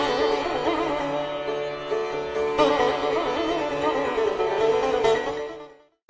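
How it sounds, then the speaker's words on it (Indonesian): Early Indian music on the sitar, with bright, sustained plucked strings and wavering bent notes resonating richly before cutting off into silence near the end. "Musik India ini memakai alat musik senar yang disebut sitar"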